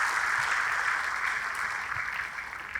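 A church congregation claps in praise to God during a service, loud, dense and continuous applause filling the room throughout.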